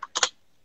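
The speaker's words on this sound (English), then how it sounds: "so I'm going to type it in real quick." Typing on a computer keyboard, three quick crisp key taps in a short burst, close and clear with silence after.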